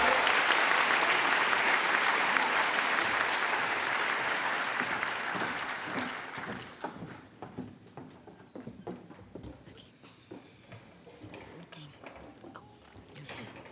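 Loud, dense applause from a graduation ceremony audience at the University of Maryland Latinx graduation swells at first, then thins into scattered individual claps and fades, with voices mixed in toward the end.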